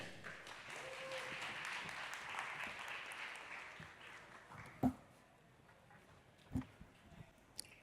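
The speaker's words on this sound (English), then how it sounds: "So a big round of applause for Nick Cannon." Crowd applause at a conference on stablecoins and prediction markets, clapping swelling then fading over several seconds, followed by a few isolated thumps and handling noises as the room quiets.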